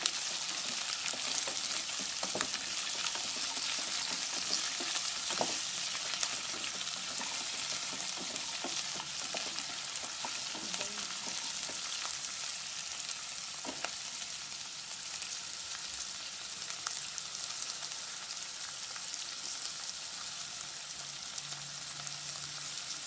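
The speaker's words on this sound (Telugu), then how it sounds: "ఈ ఆనియన్స్లో యాడ్ చేసుకొని వాటిని ఇప్పుడు బాగా ఫ్రై అయ్యే విధంగా కలుపుకుంటూ ఉండాలి." Chickpeas and onions fry in oil for a brinjal and mango curry, a steady soft sizzle with occasional light stirring clicks and scrapes continuing for a long stretch, with no one speaking.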